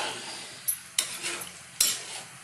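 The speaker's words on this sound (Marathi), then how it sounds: "आपण हे छान हलवून घेऊया" Rice simmers in salted water in a pot as a spoon stirs it, three distinct metallic scrapes and knocks over a faint steady bubbling hiss.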